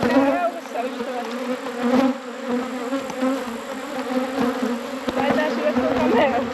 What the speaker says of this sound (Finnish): vois sanoa, että semmonen aika vihainen mehiläispesä